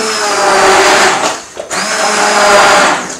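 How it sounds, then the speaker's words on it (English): A blender purees hot butternut squash soup in a loud, steady whir close by, with one brief dip midway before it resumes and runs on. "and get your blender in there."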